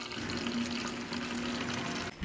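A water bottle filling under a running kitchen tap, a steady rushing stream with a faint rising tone that stops abruptly near the end, with no talking.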